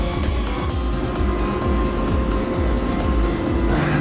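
Steady, dense rumble of a moving train carriage, low and continuous throughout, with rattling and a faint tonal whine on top; no voices.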